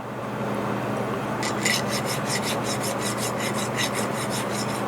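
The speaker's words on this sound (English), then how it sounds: "grab the next one, hit it with a file" A hand file deburring a sawn metal cylinder head for a 5-cylinder radial engine: about a dozen brisk, even rasping strokes over a steady low hum.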